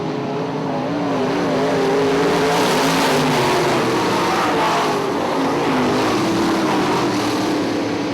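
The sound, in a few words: IMCA modified race cars racing at Ionia Raceway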